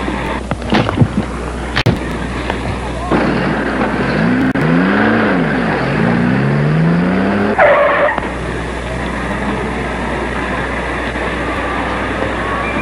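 A car speeds off with tyres squealing and skidding, a loud rising screech over a steady engine roar that fades back into rumbling traffic-like noise.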